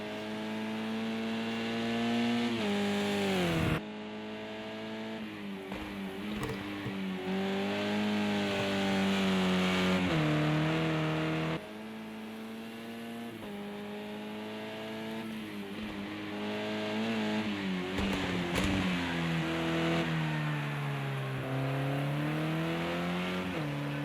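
A race car engine roars in a sim racing video game during a 4-hour endurance race at Imola, revving high and loud with sharp upshifts and downshifts through the laps, with no voices.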